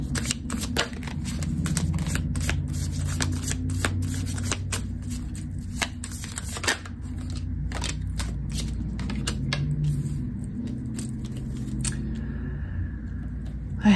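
Tarot cards shuffled by hand during a card reading, a long run of crisp riffling and slapping card sounds, close and steady with brief pauses, and no talking.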